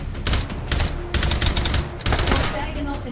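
A Steyr AUG rifle in H3VR fires in sustained loud, close full-auto bursts, with brief pauses between strings of rapid shots.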